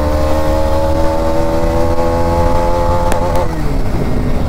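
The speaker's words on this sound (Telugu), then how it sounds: "ఫస్ట్ గేర్లో ఎంత స్పీడ్ వెళ్తుందో చూద్దాం" A Bajaj Dominar 250 motorcycle accelerates hard through first gear, its engine note climbing steadily and loud and close before a quick gear change, with no talk.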